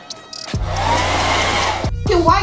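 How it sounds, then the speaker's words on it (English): A blow dryer loaded with baby powder runs steadily and loudly at close range, a continuous whirring roar with a brief sputter at the start and short breaks near the end. "You put something in my blow dryer?"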